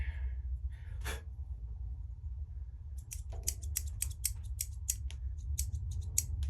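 Guggenheim thread scissors snipping open and shut in a quick run of about a dozen crisp, close metallic clicks, preceded by a single isolated snip, over a low steady background hum.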